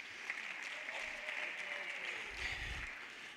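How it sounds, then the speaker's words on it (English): Audience applause at a national congress, steady and fairly faint, a dense even patter that holds across the whole stretch with no voices over it. "Can we give a round of applause?"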